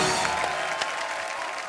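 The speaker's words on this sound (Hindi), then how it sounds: "आपकी जोरदार तालियों के बीच" Studio audience applause on a Hindi television comedy show, a broad steady wash of clapping that holds at an even level throughout.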